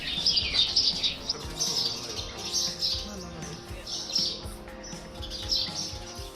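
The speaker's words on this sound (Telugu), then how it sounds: "మంచిగా ముద్దు ముద్దు ఉన్నాయిలే చిన్న చిన్న పిచ్చుకలు" Small sparrows chirp and tweet in quick, busy bursts close by, with soft wing flutters between calls and no voices.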